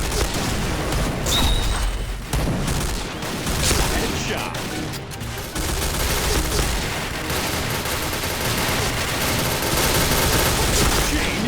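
G36C rifle fire in the Point Blank shooter game, dense continuous automatic bursts with booming impacts, loud and close throughout, nearly unbroken for the whole stretch.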